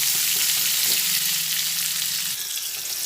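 Pointed gourd pieces fry in oil over a low gas flame, making a close, steady hissing sizzle with a faint stir or two in the brief stretch.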